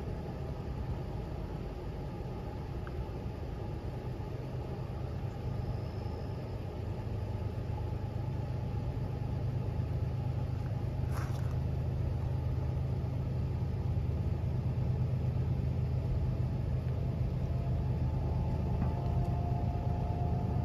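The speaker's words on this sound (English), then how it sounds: "here is 326 once again with 73 freight cars and two" A CSX freight train of 73 cars hauled by two locomotives approaches from a distance as a low, steady engine rumble that grows slightly louder over about twenty seconds, with no talking.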